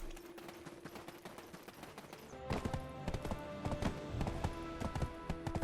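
Horse hooves clip-clop steadily in Black Desert Online, a rapid rhythmic clatter that grows louder and denser partway through, with no talking.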